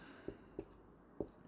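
Pen or pencil writing out a maths equation on paper: three short, soft scratchy strokes spaced evenly across a quiet moment.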